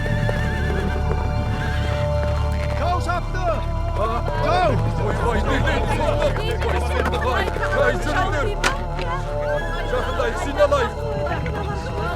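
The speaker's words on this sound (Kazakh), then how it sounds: "Жоңғарлар аттарын осылай қарай бұрды" Cavalry horses of a Dzungar army in a Kazakh historical drama gallop steadily with drumming hooves and repeated loud neighs and whinnies, with crowd voices faintly underneath throughout.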